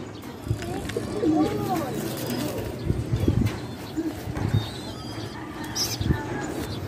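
Pigeons in a loft coo and flutter softly while drinking and pecking at feed, with small taps and rustles close by and a person talking over them.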